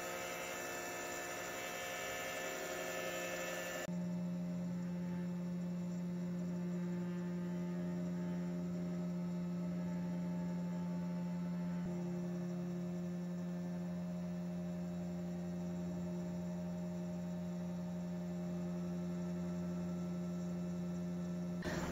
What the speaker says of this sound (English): I enclosed the machine to check the noise level again, and surprisingly, it stayed in the low 60s, which is quite acceptable for metal cutting.